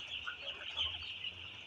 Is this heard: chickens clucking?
yes